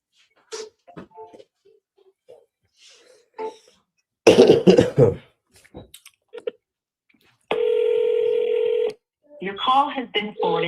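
A phone call goes through with a burst of dialing tones followed by a long steady electronic tone, between coughs, throat clearing and scattered quiet voices near the end.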